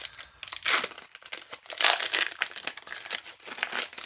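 A plastic pack of Monarch to the Moon trading cards being crinkled and pried open by hand, close up. The crackling rustles come in uneven bursts with brief pauses between them.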